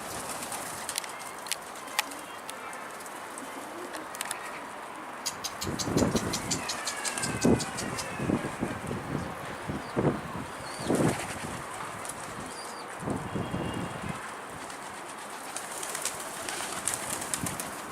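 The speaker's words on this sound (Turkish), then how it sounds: "Bizim kuşlara bak ya, hepsi kümese bak." Pigeons cooing and flapping their wings in bursts nearby, with clattering movement and scattered clicks in an enclosed space.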